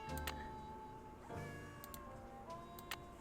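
Cat in a Nancy Drew video game meowing repeatedly, several close, insistent meows spread across the moment with faint ticking in the background, and no speech.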